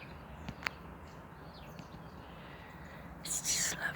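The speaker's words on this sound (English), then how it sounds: "You can still hear the birds." Birds singing outdoors, a few short chirps early on and a brighter burst of song near the end, faint against a soft ambient background with some quiet voice-like sounds.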